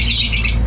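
Birds squawking loudly in a home aviary, a close, harsh burst of shrill calls filling the short moment with no talk over it.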